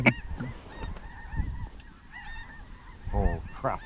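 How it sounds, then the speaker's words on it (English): Many ducks calling overhead above a cornfield duck hunt in North Dakota, a flurry of honking quacks and chatter throughout, with bursts louder near the end; light wind and faint human murmur underneath. "Got 100 ducks above us here"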